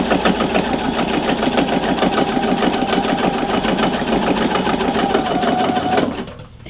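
Sewing machine stitching around a denim jeans hem, a fast, even, loud mechanical chatter running steadily for about six seconds before stopping abruptly.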